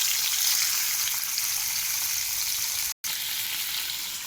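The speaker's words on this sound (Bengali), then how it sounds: "সব এক এক করে পুরো ভেজে তোমাদেরকে দেখবে" Fish pieces frying in a pan of oil, one batch after another: a continuous, close, hissing sizzle at an even level, broken by a split-second gap of silence near the end.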